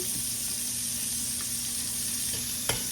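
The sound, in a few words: onions sauteing in oil in a pan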